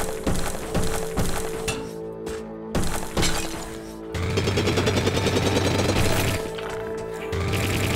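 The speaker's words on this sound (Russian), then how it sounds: "Здесь очень активно используются пушки." Guns firing in the video game SteamWorld Dig, a burst of rapid shots and sharp clinking impacts over steady game music, with loud dense rattling fire from about four seconds on.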